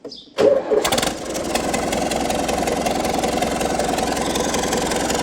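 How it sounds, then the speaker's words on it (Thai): A New Holland TD95 tractor engine, burning oil, cranks briefly after a moment of quiet, catches with a loud burst, then settles into a steady close idle with a rough, knocking clatter. "เดี๋ยวมาดูกัน สตาร์ทเครื่องให้ดู"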